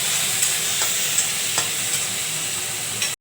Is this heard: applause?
no